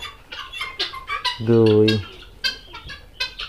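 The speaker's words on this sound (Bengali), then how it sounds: "তিথি মুরগি কী পরিমাণ ডিম পারছে আজকে আমি আপনাদের দেখাবো" Hens on a poultry farm cluck in short bursts, with one long, loud harmonic squawk in the middle, while someone talks briefly over the birds.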